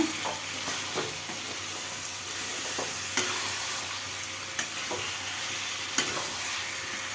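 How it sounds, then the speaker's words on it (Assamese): Chicken fries in a pan with a continuous sizzle, and the stirring utensil scrapes and taps against the pan at intervals, loud and close with no voices. "এতিয়া আকৌ চিকেনখিনি দি পেলাই ভালদৰে ভাজিব লাগিব"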